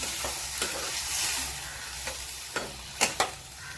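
Vegetables fry briefly in a pan for a bhetki fish curry, giving a steady close sizzle broken by a few sharp clinks and scrapes of a stirring spoon. No one speaks.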